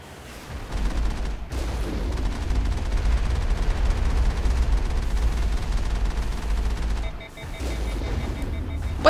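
Missile fire and combat in the video game Mass Effect, a dense sustained barrage of booming blasts and gunfire rumbling continuously, briefly dipping near the end before resuming.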